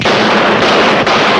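A firing squad's rifle volley, heard as a loud, sustained crackling burst of shots that continues across the whole moment, with a brief dip partway through.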